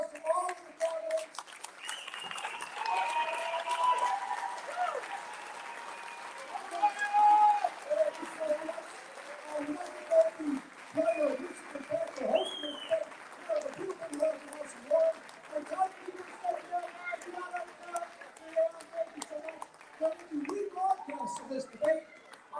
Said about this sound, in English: Let's give a big round of applause to all of the candidates.